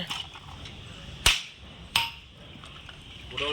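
Hammer blows breaking something while seated at a rented house, two sharp loud strikes spaced apart over a steady low background hum.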